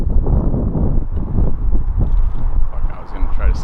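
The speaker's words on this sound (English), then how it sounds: "we have so much wind up here that, you know, I'm probably not even going to use this audio" Strong mountain wind buffets the microphone in loud, continuous low rumbling gusts throughout, with faint voices mixed in beneath the roar.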